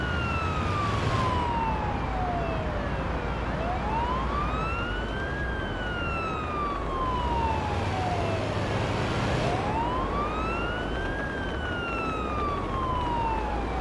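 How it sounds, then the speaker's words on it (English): An ambulance siren in the paramedic driving game Ambulance Life wails in slow rising and falling sweeps over steady engine and road rumble, loud and close, with no talking. "The siren changes volume for some strange reason on that corner."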